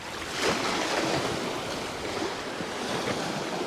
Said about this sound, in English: You might be able to hear the water lapping away.